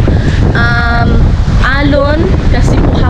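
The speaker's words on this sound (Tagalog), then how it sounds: "So, napakalakas ng hangin." A strong southwest monsoon wind blows by the sea, roaring loud and constant as it buffets the microphone, while a person talks beneath the gusts.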